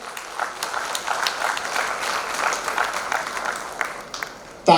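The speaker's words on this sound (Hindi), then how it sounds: "तालियों की डिमांड कर रहा था, आपने पहले ही कर दी।" A crowd at a formal gathering applauds with a fairly quiet, steady patter of clapping that holds for several seconds, ending with a sharp louder bump.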